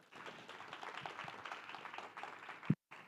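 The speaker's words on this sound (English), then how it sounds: "Big round of applause, please, to Tyler." Conference audience at Devcon VI in Bogotá applauding a speaker, a faint, steady patter of many hands clapping that ends abruptly with a single thump.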